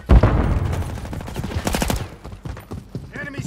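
Automatic gunfire in Modern Warfare 3 rattles in rapid bursts, the loudest close volley at the start and another around the middle, followed by brief in-game radio chatter.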